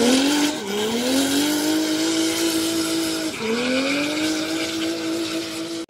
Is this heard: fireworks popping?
no